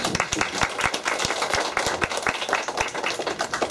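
Crowd applause, a dense wash of many hands clapping steadily and fairly loud throughout, with no voices on top.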